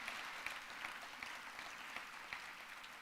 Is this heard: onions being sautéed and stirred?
no